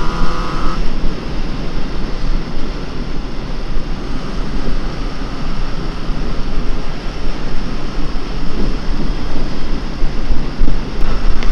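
A Honda CB750F cafe racer motorcycle being ridden without a license plate, its engine drone steady and loud throughout and blended with heavy wind rush, with no talking.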